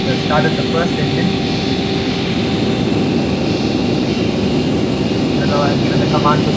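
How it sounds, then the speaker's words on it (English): Airbus A330 engine spooling up in a flight simulator game, a steady loud jet whine and broadband roar with a constant tone, running continuously under faint cockpit sounds. "Started the first engine"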